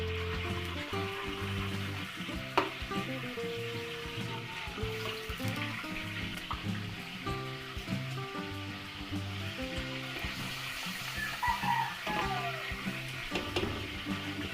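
Pork sizzles and spatters steadily in oil and Star Margarine in a pan, a continuous crackling fry with a faint clatter now and then.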